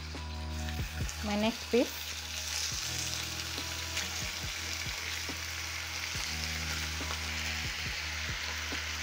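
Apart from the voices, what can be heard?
bacon frying in a pan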